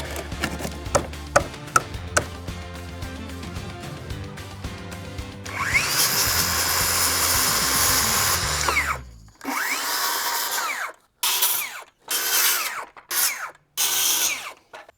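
Power drill backing screws out of a wooden gate, a steady loud whir for several seconds followed by a series of short, separate bursts with brief pauses, after some lighter knocking and handling at the start.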